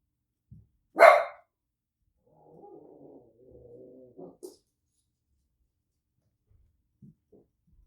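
A neighbor's dogs barking outdoors during bonsai work on a Chinese elm and pepper tree, one loud bark followed by a stretch of lower, rough vocalizing and a few faint yelps.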